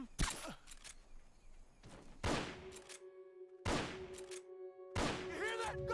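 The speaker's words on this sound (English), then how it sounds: "You hear that? Gunshots!" Bursts of video game gunfire in three or four loud, broadband volleys with short gaps between them, ringing tonal tails after each, no talk over them.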